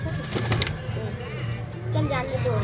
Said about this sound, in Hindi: पे बहुत सारे कबूतर हैं